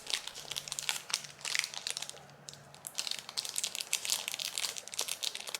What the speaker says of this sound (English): Now take the clay out of its cover and knead it with your fingers.